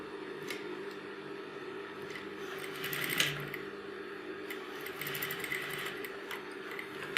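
A sewing machine stitches a kanchli blouse, running in a continuous light mechanical whir with brief rattling bursts and small clicks, close and steady, no voices.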